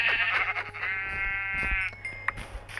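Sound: sheep bleating in a video game

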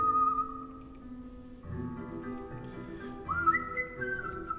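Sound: person whistling a tune on stage

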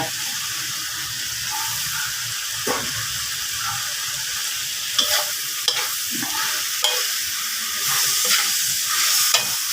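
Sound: stir-frying chicken with chilies and long beans

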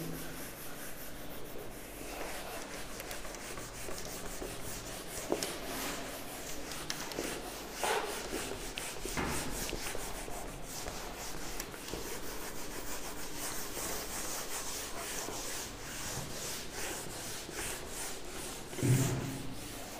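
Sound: rubbing out writing on a board

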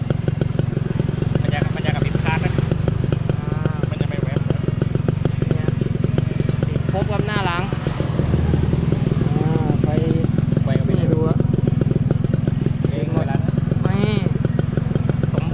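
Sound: Suzuki Crystal 110 motorcycle engine running

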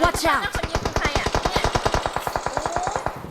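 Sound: AWM sniper rifle gunfire in the video game PUBG

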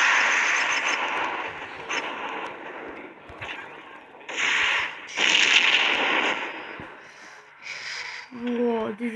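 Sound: bomb being destroyed, Max Payne Mobile video game

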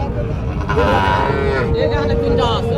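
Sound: cattle mooing

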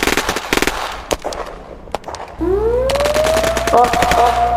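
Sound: gunfire in a video game

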